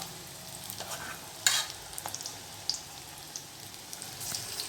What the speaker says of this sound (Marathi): छान कांदा पकोडे आम्ही तळतो आहे